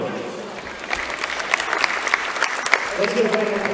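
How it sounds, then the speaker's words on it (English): A gym crowd at an ICC basketball event claps for the men's basketball sophomores, a burst of applause that swells after a moment and carries on, with a voice over a loudspeaker at the start. "Let's give a round of applause for all of our ICC men's basketball 2020 sophomore."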